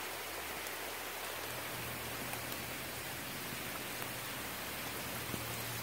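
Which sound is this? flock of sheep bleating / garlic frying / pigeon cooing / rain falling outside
rain falling outside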